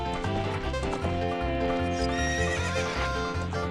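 Epona, the horse in Zelda: Ocarina of Time, whinnies over steady clip-clop hoofbeats, loud and close, backed by continuous in-game music with no talking.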